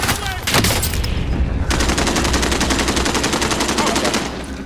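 Rapid automatic gunfire in Call of Duty Warzone during a final-circle firefight, a dense sustained burst of rattling shots with a sharper close burst early on, loud and continuous throughout.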